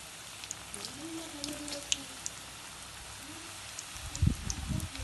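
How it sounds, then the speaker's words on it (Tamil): Sweet potato chips fry in hot oil over a low flame, giving a soft, crackly sizzle with scattered pops and a louder burst of bubbling near the end, while someone speaks faintly in the background. "நம்ம இத ஃப்ரை பண்ண போடுறலாம் கொஞ்சம் மிதமான தீயில வச்சு பொரிச்சுக்கோங்க"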